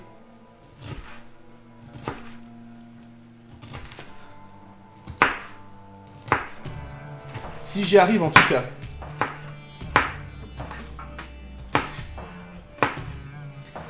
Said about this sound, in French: je vais réunir mes lamelles. Et je vais faire des dés.